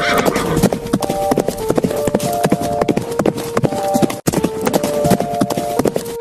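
Rapid, loud clip-clop of a horse's hooves, sharp regular strikes close by over several seconds, with a steady tonal layer running beneath the rhythm.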